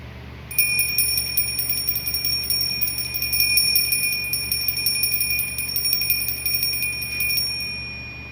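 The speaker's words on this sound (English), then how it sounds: "I'm going to ring the bell." A bell rung by hand, struck again and again in a fast, steady pattern for about seven seconds. Bright, ringing tones hang on and overlap, loud and close, with no talking.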